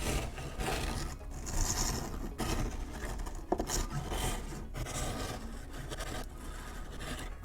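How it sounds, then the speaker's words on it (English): Steady scraping rasp of a microplane shaping the curved edge of a Boba Fett jet pack build, continuous close-up strokes with brief pauses between passes, fairly loud and alone. "I think the microplane rasp is going to make this a lot faster"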